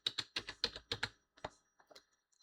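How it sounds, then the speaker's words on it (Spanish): A password is typed on a computer keyboard in a quiet room, with a quick run of crisp, close keystrokes followed by a few slower, sparser taps. "ya escribí mi contraseña"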